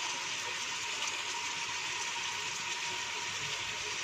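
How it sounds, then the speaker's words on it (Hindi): Water poured into a cooking pot on a home stove before chicken is cooked in it, a steady rushing, filling flow that stays even throughout, fairly quiet, with no talking. "इसमें पहले पानी डालेंगे, पानी इतना जिसमें ये पक जाए"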